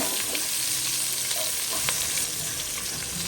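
Garlic and onion sautéing in a pan, a steady close sizzle with light stirring scrapes throughout, no voices.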